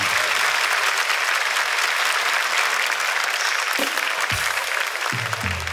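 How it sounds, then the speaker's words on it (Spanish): Steady, dense applause from a studio audience at a Chilean comedy talk show, loud and sustained throughout, with a few low voices and knocks creeping in near the end. "Un fuerte aplauso."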